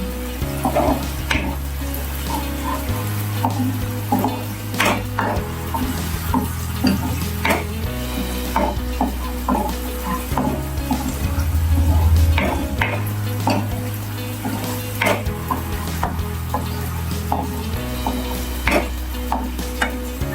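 Thai curry frying in a pan under steady stirring: a continuous sizzle with rhythmic scrapes and clinks of the utensil against the pan, close and busy throughout.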